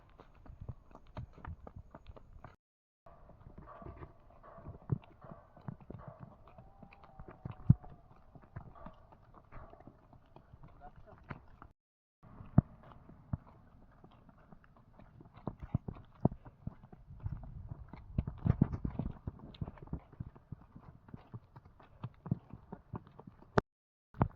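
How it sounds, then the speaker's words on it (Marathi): A bull recovering from illness walks along a village path, its hooves giving a steady irregular clopping on the ground, fairly close and quiet with some outdoor background. "आम्ही जण आलो आता बैल घेऊन चालवायला"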